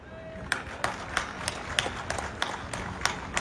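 Scattered hand claps from an audience at a speech event: sparse, evenly spaced sharp claps roughly every third of a second, moderately loud against a low crowd murmur.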